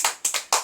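Children in a classroom clap together in quick bursts, four sharp group claps in an uneven rhythm, close and fairly loud with no talking.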